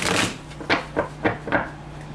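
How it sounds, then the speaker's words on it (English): Tarot cards are shuffled by hand, with a dense riffle at the start followed by four distinct papery snaps at a steady pace, close and fairly loud, with no talk. "So let me just do one more shuffle here"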